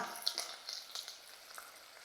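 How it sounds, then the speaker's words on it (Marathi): A tempering of asafoetida and curry leaves sizzles in hot oil for dahi kadhi, giving a steady crackling fry with small pops, close but fairly soft, with no voices. "हिंग बघा किती भारी फोडणी तयार झाली अगदी खमंग तयार झाली आहे"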